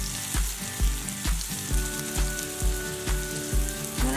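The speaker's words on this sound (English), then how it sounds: "can now put in your finely chopped red onions" Finely chopped pink onions sizzle steadily in hot oil for a South Indian veg kurma, a constant close frying crackle with a regular thumping beat running underneath.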